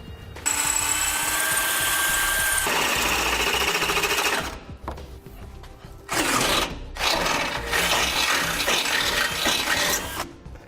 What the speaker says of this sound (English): Now I'm going to take a small drill bit and drill through